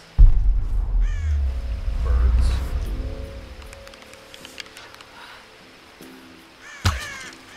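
A crow-like bird caws a few times in the Tomb Raider video game, harsh calls rising over rumbling game ambience and rustling, with one last loud caw near the end.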